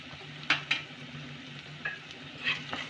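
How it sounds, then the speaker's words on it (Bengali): Chilli, coriander and turmeric powders are stirred in a pan for palak paneer, with a soft sizzle underneath and several scraping strokes of a spoon against the pan, close by. "ভালো করে নেড়ে নেব"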